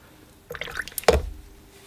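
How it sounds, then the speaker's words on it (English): A small splash and trickle of water added to watercolor paint, brief and close, lasting under a second amid quiet brush handling. "Add a little bit of water to it."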